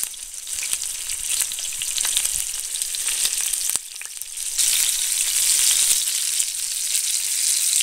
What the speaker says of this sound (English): Just fry this for a couple of minutes and I'll turn it over.